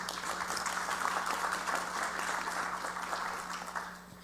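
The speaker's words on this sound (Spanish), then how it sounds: "maestra Luz María Lemus Campuzano, a quien recibimos con un fuerte aplauso" An audience at a legal conference on pluralism and intercultural law gives steady, sustained applause that fills the room and fades slightly near the end, with no one speaking over it.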